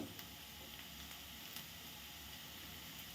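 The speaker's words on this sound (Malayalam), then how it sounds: "സവാള നല്ല ഒരു ബ്രൗൺ കളർ ആവുന്ന വരെ ഇളക്കി കൊടുത്തുകൊണ്ടിരിക്കുക" Onions fry in a pan over medium heat for an egg roast, giving a steady, even sizzle with faint scraping from stirring and no voices.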